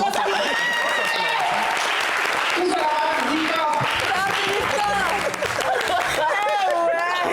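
A studio audience claps through a lively stretch of talk, steady applause running under several overlapping voices and laughter.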